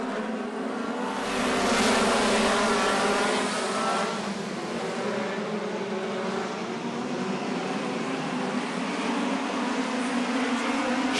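Dirt track speedway race cars roar off together at the start of a race, a loud, dense, continuous engine rumble that swells in the first seconds and then holds steady.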